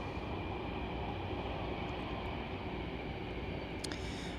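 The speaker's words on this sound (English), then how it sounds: "Here comes another train." Distant train passing near a canal where a narrowboat is moored, a faint, steady broadband rumble that holds evenly throughout, with a brief higher tone near the end.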